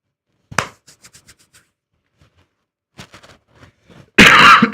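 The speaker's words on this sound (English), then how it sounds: "Still working that cough." A few short coughs and throat-clearing sounds, fairly close, scattered across a few seconds at a casino craps table, ending in a sudden loud burst of noise.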